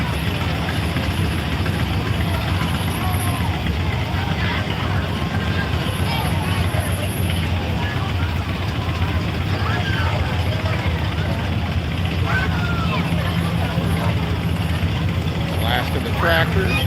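Idling and rumbling engines of tractors rolling past in the 2024 Tecumseh Bicentennial parade, a continuous low drone close by, with crowd chatter and talking over it.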